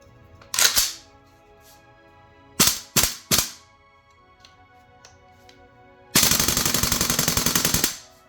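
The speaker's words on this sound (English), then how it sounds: "I like to verify the gun works properly by setting dry fire on the magazine, then doing a few test shots" An airsoft gas blowback rifle fires close by: a single sharp shot, then three quick separate shots, then a rapid full-auto burst of crisp mechanical cracks lasting about two seconds.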